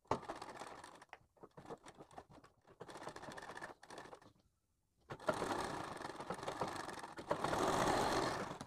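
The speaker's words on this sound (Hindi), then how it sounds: "ये हमने सिलाई लगाई" Sewing machine stitching around a blouse neckline, close-up fast mechanical whirring in several bursts with a short silent pause, growing louder and steadier toward the end.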